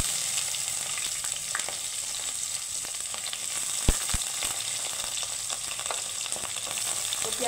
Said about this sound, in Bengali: তো পেঁয়াজটাকে আমি হালকা ভেজে নেব।